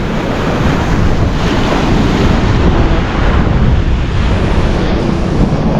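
Sea waves roll and wash along the Ilocos Sur coast, heard as a loud, steady surging roar mixed with heavy wind buffeting the microphone, with no speech.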